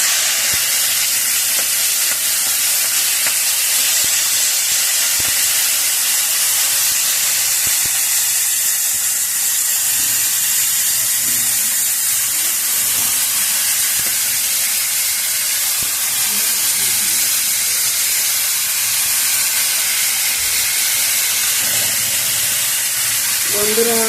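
Potol (pointed gourd), potato and long beans frying in hot oil for a mixed vegetable fry, giving a steady, loud, dense sizzle and hiss that continues evenly throughout with faint clinks of stirring.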